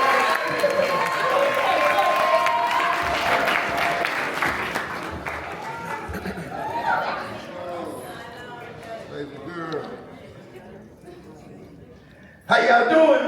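An award-show crowd claps for the Media Personality of the Year winner, a dense, loud applause that gradually thins and fades while voices talk and call out over it, then gives way to near quiet.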